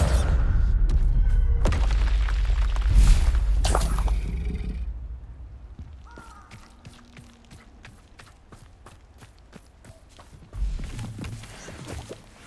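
Heavy blasting-spell explosion booms in the Hogwarts Legacy video game, a loud broadband burst in the first few seconds that decays into quieter clatter and debris, with another impact near the end.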